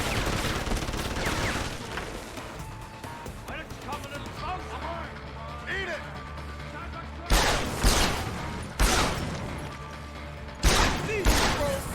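Gunfire in Deus Ex: Human Revolution: a dense rattle of shots under someone talking, then several loud sharp bursts standing out near the end.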